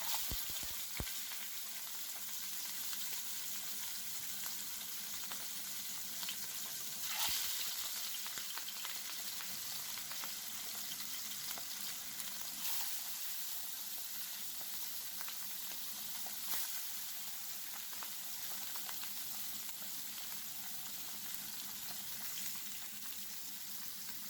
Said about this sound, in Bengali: তেলটি যখন পর্যাপ্ত পরিমাণ গরম হবে তখনই আমি মাছগুলো তার ভিতরে দিয়ে দেব।